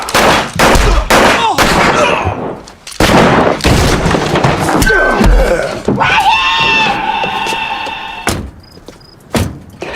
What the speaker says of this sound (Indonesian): mereka bersembunyi di balik meja kasir saat peluru mulai berhamburan dari segala arah.